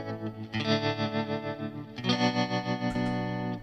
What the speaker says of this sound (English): These are different Stompboxes, and this is my tremolo.